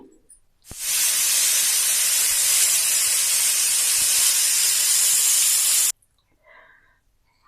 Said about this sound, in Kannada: ಕುಕ್ಕರ್ ಮುಚ್ಚಿಬಿಟ್ರೆ ಒಂದು ನಾಲ್ಕು ವಿಸಿಲ್ ಐದು ವಿಸಿಲ್ಗೆ ತೆಗಿಬೇಕು